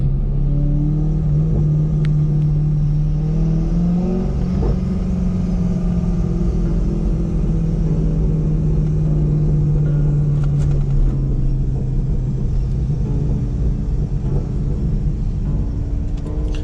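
A Corvette engine rumbles and revs steadily at close range, a deep sustained drone shifting in pitch over about seventeen seconds; distinct exhaust pops are not clearly picked out.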